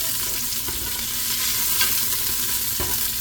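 Garlic and red onion sauté in a pan with chicken for Filipino adobo, giving a loud, constant sizzle with a few soft stirring scrapes breaking through.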